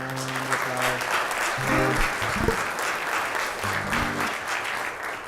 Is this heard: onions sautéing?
no